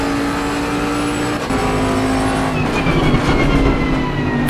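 A Bentley race car at Imola in Assetto Corsa Competizione, with a steady loud engine drone, another car running alongside, continuous roar with rising and falling pitch, no speech heard.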